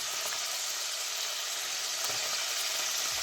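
Garlic, then onions, sizzling over low heat in a pan for a meat and pearl onion stew, a steady close hiss of frying with faint crackles and no talk.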